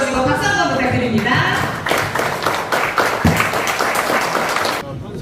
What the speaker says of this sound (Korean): 정면 보시고 박수 한번 부탁드립니다.